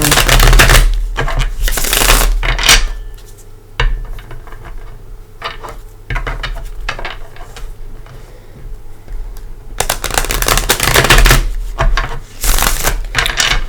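Tarot cards are shuffled repeatedly in loud, close bursts of riffling and flapping, separated by short pauses with a low steady hum underneath.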